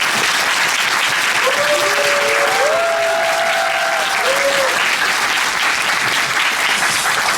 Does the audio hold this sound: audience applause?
yes